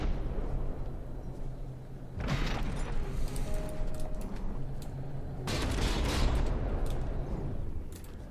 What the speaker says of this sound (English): It's desperately firing some revolting blast guns